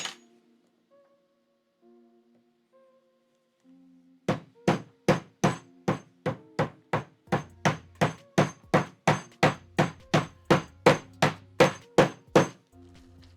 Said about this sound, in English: You give them a few whacks until they're seated